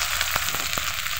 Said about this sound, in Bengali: কাঁচামরিচ ও পেঁয়াজ কুচিগুলোকে হালকা ভেজে নিতে হবে।